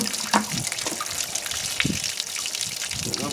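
Water sloshing and swirling around black sand in a blue gold pan, a steady close-up liquid wash with small splashy surges and no talking.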